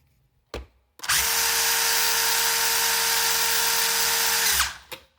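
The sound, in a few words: SG1603 RC car running with brushless motor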